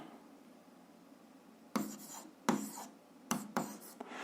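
Chalk or marker scraping across a board during a physics lesson comes through in three short bursts of quick rubbing strokes, fairly close and moderately loud, with a quiet room before them and no talking.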